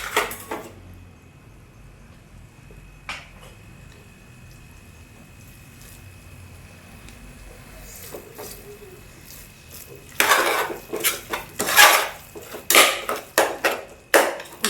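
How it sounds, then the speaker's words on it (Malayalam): A pot of beef biryani masala paste is stirred, starting with faint quiet scraping, then a run of loud, close clanks and scrapes of a spoon against the metal pot in the final seconds. "ഇളക്കി യോജിപ്പിക്കാം"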